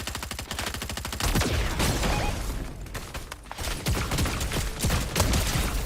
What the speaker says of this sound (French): je tire sur mon pote